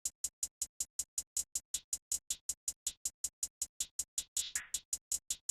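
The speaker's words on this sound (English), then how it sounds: "the hi-hats are pretty much just a simple 2-step pattern with this lower note playing every now and then" Programmed hi-hats from an FL Studio beat tick in a steady, rapid two-step pattern of crisp, evenly spaced hits, with one brief lower, longer note breaking in near the end; no other instruments or voices.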